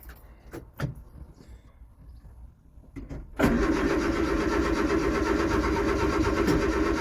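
An old Ford car engine cranks briefly with a few clunks, then catches and roars into a loud, steady idle close by.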